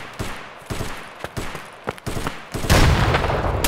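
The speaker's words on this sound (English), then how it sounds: "Covering fire." Covering gunfire in the game Escape from Tarkov on the Shoreline map, several sharp separate shots in quick succession, then a louder sustained burst at the end.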